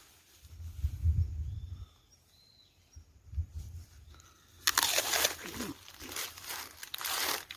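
Someone crunches into a crisp, juicy honey apple fresh from an orchard, a few loud bites and chewing sounds up close, with no talking.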